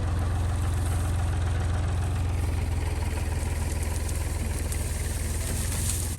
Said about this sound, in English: we're gonna see if a tractor can pull it out